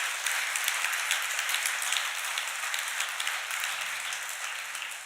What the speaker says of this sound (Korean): 다시 한번 우리 원장님께 깊은 감사의 박수를 보내주시기 바랍니다.